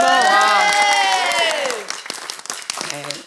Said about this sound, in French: 26 ans carrière de Mamie Clown, ça s'applaudit, ça, franchement.